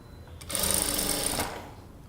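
A sewing machine stitches piping on a princess-cut kurta in one steady, close, loud run of rapid needle whirring that lasts about a second before it stops, with no talk over it.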